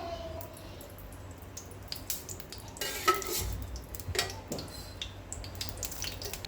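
Green chilies and onion pieces frying with dried shrimp in a pan for Andhra-style drumstick curry, a steady soft sizzle broken by scraping stirs and a few clinks of utensil on metal.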